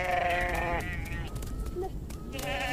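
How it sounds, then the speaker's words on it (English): Sheep and goats bleat in the Ethiopian highlands, several calls overlapping close by, with a long quavering bleat followed by shorter ones over a steady outdoor hum. "the Amhara also maintain herds of cattle, sheep, and goats"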